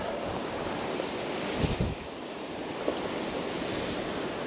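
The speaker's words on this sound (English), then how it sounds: "It's a fair wind blowing down." Wind blows across a salmon river on the River Doon, a continuous broad rushing roar with gusts buffeting the microphone, close and loud with no talk.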